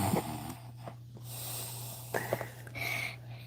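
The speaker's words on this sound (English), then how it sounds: "I can also snore on command." A person fakes snoring on command, producing nasal snorts and wheezy rasping breaths in a few uneven bursts, close and fairly quiet over a steady low hum.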